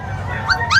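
Maltese crossbreed puppies at the Bocaue pet market give two quick, high-pitched yips close by over a busy background murmur.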